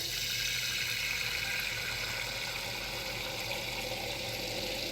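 Water runs steadily into a container while soap is added for cleaning, a constant hiss with no voices over it.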